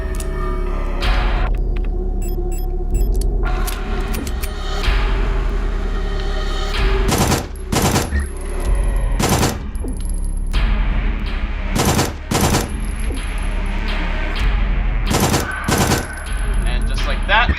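Repeated loud gunfire from the game Signalis comes in bursts against a boss, over a low rumbling backdrop with brief quieter stretches between volleys.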